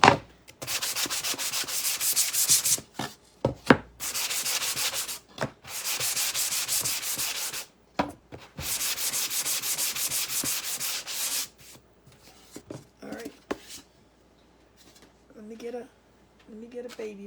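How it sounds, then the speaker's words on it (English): A sanding block rubbed back and forth over a surface in long, loud, rasping strokes with short pauses between them, followed by quieter handling noises and a few soft sounds at the end. "I'm going to sand this down just a tiny bit"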